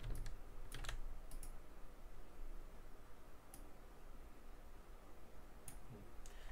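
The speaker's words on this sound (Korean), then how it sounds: "면을 하나 클릭한 다음에 엔터를 해주세요" Computer keyboard keys and mouse clicks tapping away while working in CAD software, a steady run of light, close clicks with a few sharper, louder taps scattered throughout, no voices.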